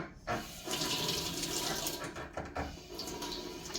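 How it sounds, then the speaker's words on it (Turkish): Running tap water pours steadily over wild kanlıca mushrooms being washed in a sink, a close, continuous splashing rush with small changes as the mushrooms are handled. "Önce kanlıcaları bir yıkayalım."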